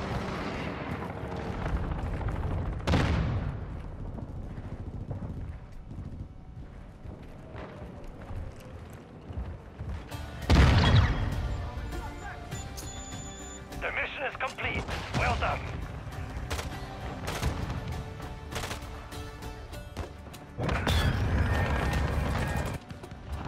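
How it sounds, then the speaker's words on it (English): Cruise missile strike explosions in a Call of Duty match, several heavy booms and blasts rising out of a rumbling battlefield din, with loud bursts around three, eleven, fifteen and twenty-one seconds and voices talking in between. "Friendly cruise missile deployed."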